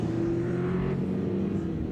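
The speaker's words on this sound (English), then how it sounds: "as he thunders up the back straight, big Cleveland V8" A Ford XA Falcon two-door hardtop race car with a big Cleveland V8 accelerates along a back straight at a racing festival, a steady loud engine drone with a low hum that holds throughout.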